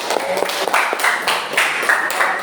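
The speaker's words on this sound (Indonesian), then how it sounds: "tepuk tangan buat yang buang sampah" Students in a classroom applaud, a ragged run of near handclaps from a small group that rises and dips in bursts, with a few voices mixed in.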